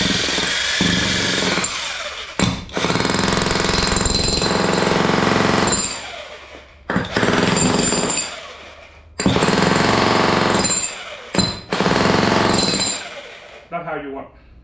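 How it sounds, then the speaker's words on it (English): A Hitachi jackhammer breaking concrete pounds in loud, sustained bursts of several seconds each, separated by short pauses and brief restarts, with a voice talking between runs. "And my jackhammer."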